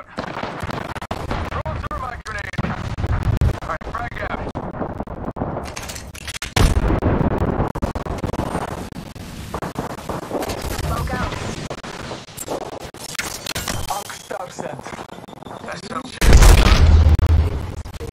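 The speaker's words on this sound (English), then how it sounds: "Throw my grenade out." In the Apex Legends battle royale game, a thrown grenade bursts among repeated gunshots and booms, a chaotic loud exchange with a heavy blast near the end, while a voice talks over parts of it.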